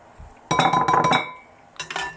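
A bowl clinks as Ogbono soup is transferred into it, giving a quick run of bright ceramic knocks followed after a short pause by a few more close clinks.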